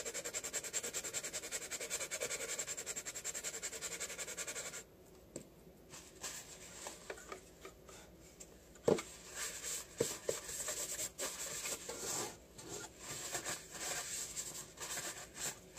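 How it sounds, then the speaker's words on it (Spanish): Quiet, steady scratchy rubbing of sandpaper on a wooden door of a vintage caravan, with a few light knocks and a faint background hiss; a short pause in the middle. "vamos a lijar este poquito de aquí"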